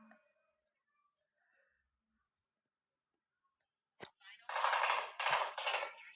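Gunfire in the PUBG video game comes as a sharp single crack followed by several loud, rapid bursts after a long quiet stretch.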